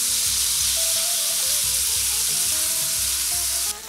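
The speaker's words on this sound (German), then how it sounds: "Und hier kommt Olivenöl zum Anbraten. Zuerst kommt das Fleisch. Es wird" Minced meat frying in olive oil in a hot pan, giving a loud, dense, continuous sizzle and crackle that stays even throughout before cutting off abruptly at the end.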